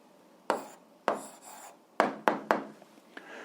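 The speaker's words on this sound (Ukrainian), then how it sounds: "Записуємо відповідь, пишемо відповідь" Pen strokes on paper while writing out an algebra answer: a handful of brisk scratchy bursts, close and fairly loud, arriving in uneven rhythm with short pauses between, no voices.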